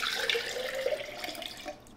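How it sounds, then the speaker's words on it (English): About two cups of water pour steadily into a jar, likely for a wick-watered net pot planter setup. The stream is soft and continuous with a gentle splashing trickle throughout, and no voices. "says 2 cups of water into the jar"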